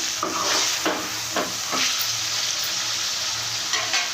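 Loud, continuous sizzling of chicken liver frying in hot oil, broken by a few scraping stirs.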